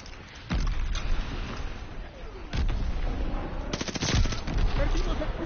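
Welgun submachine gun fired in a video game, with several rapid bursts of automatic fire cracking out close and loud over a rumbling battlefield background, separated by short pauses.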